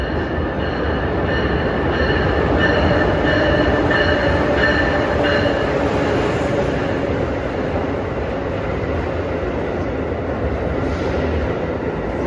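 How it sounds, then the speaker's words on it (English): An Acela Express train rides from Philadelphia to New York, a loud steady onboard rumble with wheel and rail noise and high squealing tones during the first half. "It's the first time I've ever taken an Acela Express out of Philadelphia to New York."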